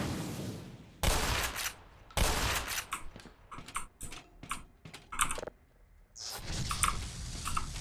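Gunfire in the Black Mesa video game: sharp, separate shots and short bursts arriving in irregular clusters, loud and close, with brief silences between volleys and no talking.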